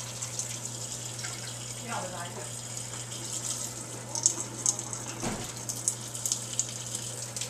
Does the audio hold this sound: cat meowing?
no